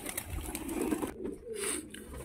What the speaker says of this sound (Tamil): இந்த புறா இந்த கூண்டில் பார்த்தீங்கன்னா